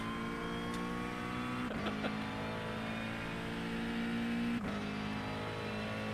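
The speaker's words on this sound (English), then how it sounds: "It's a car leaving the pit lane." A race car in the iRacing sim pulls out of the pit lane, its engine whining through a few steady rising pulls with two brief breaks for gear shifts, fairly close and with no talking.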